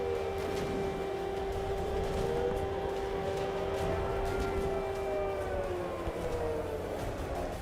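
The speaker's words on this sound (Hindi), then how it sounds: "इन हमलों के बाद कई इलाकों में एयर रेड सायरन बजे" An air raid siren wails steadily over an area under missile attack, its long rising and falling tone loud and continuous throughout, with a low rumble of background noise beneath.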